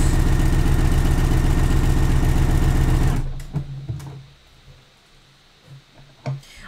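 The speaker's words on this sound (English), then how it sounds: "You can get a really secure stitch just on your regular sewing machine." A regular domestic sewing machine stitches swimsuit fabric in a steady, rapid whirring run that stops abruptly after about three seconds, leaving a few faint handling clicks and bumps.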